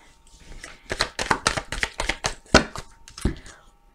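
Tarot cards cut and shuffled by hand, a run of about a dozen crisp, snapping card slaps in quick succession, close and fairly loud, with a few louder hits near the end.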